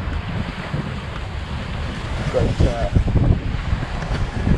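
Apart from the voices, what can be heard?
squall wind blowing across the sea on a sailing boat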